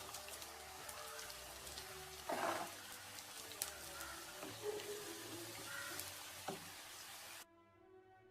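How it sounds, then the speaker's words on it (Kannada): Cauliflower florets dropped into hot oil for a second frying while making Gobi Manchurian, giving a steady close crackling sizzle with a brief louder burst of bubbling partway through, then cutting off. "ಈಗ ಗೋಬಿಯನ್ನು ಇನ್ನೊಂದು ಸಲ ಫ್ರೈ ಮಾಡಲು ಹಾಕ್ತಾ ಇದ್ದೇನೆ"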